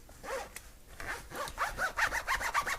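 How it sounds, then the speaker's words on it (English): A YKK zipper at the front fly of BlackHawk Light Weight tactical pants is worked back and forth, up close. The rasping strokes grow quicker and louder, ending in a rapid run of short zips. "I played around with the zipper a little bit."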